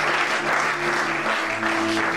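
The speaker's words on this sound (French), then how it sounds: "Que quelqu'un acclame le Seigneur Jésus." A church congregation at a Bible teaching session claps steadily in acclaim of Jesus, a continuous even wash of applause from a roomful of people.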